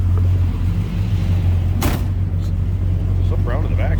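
A 1968 Dodge Coronet 440 V8 engine idles with a deep, steady, throaty low rumble, close by, with a brief whoosh partway through and faint background sounds.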